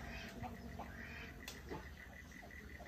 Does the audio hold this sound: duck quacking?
yes